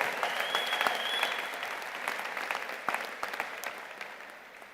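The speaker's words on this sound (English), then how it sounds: "let's have a round of applause to recognize our veterans and active military members" Audience applause at a commencement ceremony, a steady wash of clapping from a large crowd that gradually fades in the closing seconds.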